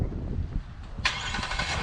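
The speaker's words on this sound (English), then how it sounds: "Car starts up and it stays locked" A Kia's engine starts by factory remote start, a low idle rumble then a sudden louder crank and catch about midway, settling into a steady running hum close by.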